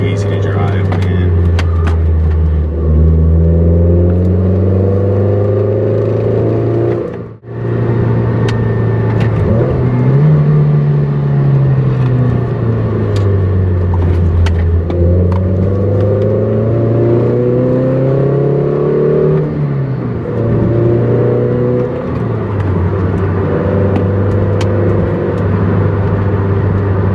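Close, steady engine drone from a Toyota MR2 Spyder (ZZW30) cruising on a winding road, rising and falling in pitch through repeated accelerations and gear changes, with a brief gap partway through.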